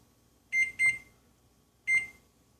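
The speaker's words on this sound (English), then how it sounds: "I'll just set the timer here for 10 minutes" Three short electronic beeps from a kitchen timer being set, two in quick succession then one more after a pause, clear and close in a quiet room.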